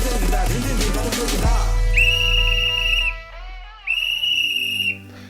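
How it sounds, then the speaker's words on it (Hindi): Loud, sustained whistle blasts echo through the morning streets of Varanasi, two long shrill tones with a short gap between them, following a burst of clattering street noise. "यह आवाज है एक सीटी की।"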